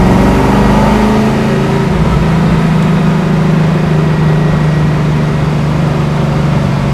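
1969 Chevrolet Camaro engine pulling in second gear after a downshift, a loud, steady low rumble with a slowly climbing drone heard from inside the car.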